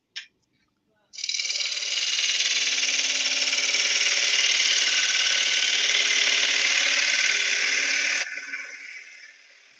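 A wood lathe spins a sycamore bowl blank at roughly 950 to 1100 RPM, giving a steady, loud, high whirring tool hiss that holds for about seven seconds after a brief click and then cuts off to a fading hum.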